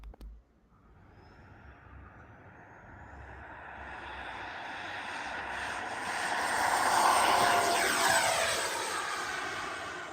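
A small RC model MiG-29 jet flies past at an outdoor flying field, its engine a steady whooshing roar that swells as it nears and stays loud and sustained, with no voices.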